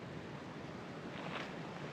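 Steady broadband rush of flowing mountain creek water, continuous and fairly faint, heard alone without any talking.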